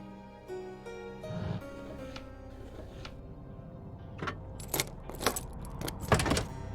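A set of keys jingles in the video game Enigmatis 2, a few short metallic rattles building toward the end over a low steady hum.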